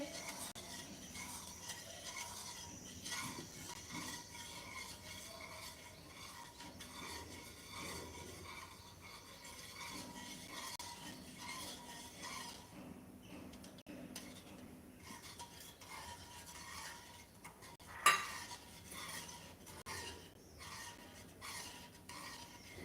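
Sour buttermilk and water being stirred steadily in a pot while heating toward a boil, a soft continuous scraping and swishing with occasional clinks of the utensil, fairly faint and close, with no talking.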